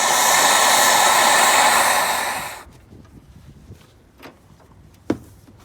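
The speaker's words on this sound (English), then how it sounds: "they're rusty, so to help you out, put a little heat on them and then take them off" A heat source roars steadily against rusty suspension bolts on a 2003 Mercury Mountaineer. It is loud and close, then cuts off after about two and a half seconds, leaving a few faint clinks and one sharp tap.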